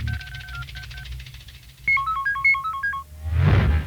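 A mobile phone ringtone plays in a film scene: a short melodic beeping phrase, a pause, then a brighter run of rapid electronic notes, ending in a brief noisy burst.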